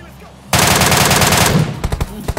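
Automatic gunfire erupts in the mobile game PUBG Mobile, a loud, close, rapid burst of shots lasting about a second, followed by a few scattered single shots.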